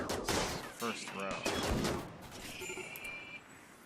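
Gunfire in the RimWorld video game, a burst of quick synthetic shots early on followed by more scattered reports, fairly loud, with a voice talking over parts of it.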